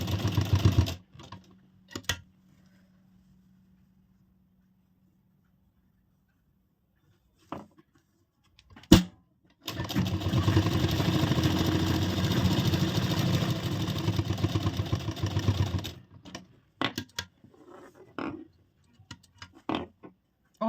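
Sewing machine stitching a deep-neck princess-cut blouse, running in one steady burst of about six seconds in the middle, with a few short clicks and taps before and after and quiet stretches between.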